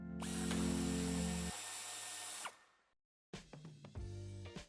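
Cordless power tool whirring as it backs out two screws on the tailgate of a 2021-2024 Toyota Yaris Cross (MXP), a sustained run that stops, then short bursts and clicks after a brief pause; no talking.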